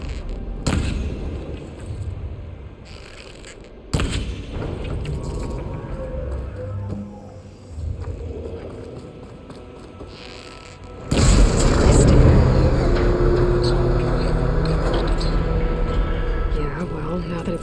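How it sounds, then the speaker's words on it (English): Shots fired at the coupling on a machine arm in Horizon Forbidden West: sharp booming impacts amid mechanical whirring and rumbling, then a sustained loud metallic clatter and roar as the structure gives way. "Maybe I can shoot the coupling on the arm."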